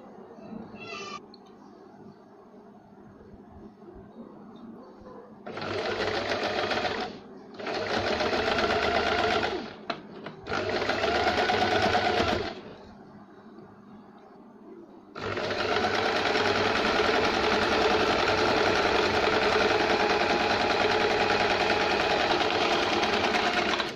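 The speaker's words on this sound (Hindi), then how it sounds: "अब हम इसके ऊपर एक सिलाई लगाएंगे यहाँ से" Sewing machine stitching a blouse, running in three short bursts and then one long continuous run, loud and close, with quiet pauses between bursts.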